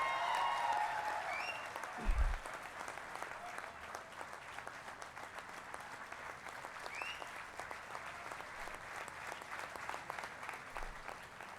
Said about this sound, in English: A huge, huge, huge round of applause, please.